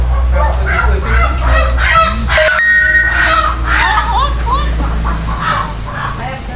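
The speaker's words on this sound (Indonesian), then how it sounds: "Ini ayam biasa ya? Ayam kampung lah." Free-range village chickens cluck and call near a farmyard, mixed with other fowl and a steady outdoor hum, while people talk over them throughout.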